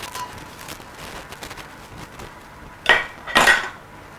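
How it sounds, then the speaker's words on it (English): A spoon scraping and scooping the inside of a plum tomato, heard as faint soft scrapes followed by two louder, brief metallic scrapes near the end, close and without talk. "Gonna take your spoon in and you're just gonna gut it out nicely."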